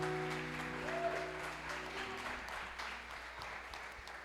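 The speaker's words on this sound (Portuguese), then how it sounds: "Não fui eu que pedi palmas" Church congregation applauding at a Portuguese-language worship service, a broad steady wash of clapping throughout with a sustained organ or keyboard chord underneath that fades out midway.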